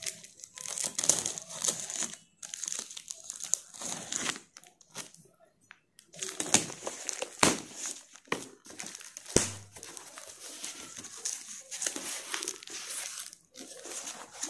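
Cardboard and plastic packaging from a Bigfun 37-key keyboard box being opened, with steady crinkling, rustling and tearing broken by sharp handling thumps.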